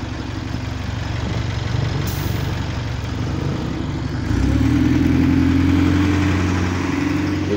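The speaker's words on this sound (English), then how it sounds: "And the bus sounds a bit weaker than usual." An Alexander Dennis Enviro400 (ENX15) bus engine idles steadily nearby with a low, even rumble, sounding weaker than usual after exhaust work; the pitch rises slightly partway through and holds.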